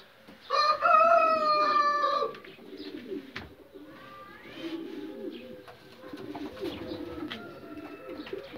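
Pigeon chicks coo in a loft. A loud, drawn-out tonal call sounds up close near the start, followed by softer, rolling coos that keep going in the background.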